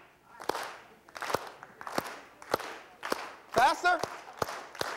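Audience members at a leadership talk on a college campus clap in unison at a quickening pace, crisp group claps roughly every two-thirds of a second, with a brief voice cutting in partway through.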